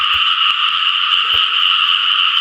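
Frogs at night while someone is out catching them: a dense, continuous chorus of buzzing croaks, loud and close, with a few faint thumps and no talking.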